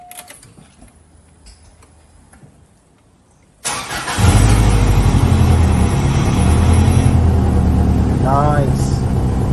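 A Subaru Impreza 22B STi GC8 sits quietly with faint ticking, then its engine cranks and catches abruptly, settling into a loud, steady, close idle. A brief voice-like chirp rises over it near the end.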